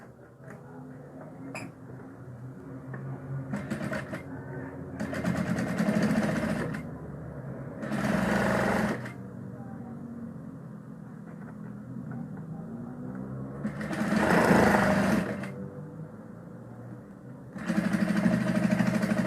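A sewing machine topstitching bias binding runs in several bursts of rapid mechanical whirring, each lasting one to two seconds, separated by quieter pauses with small handling noises, close and fairly loud.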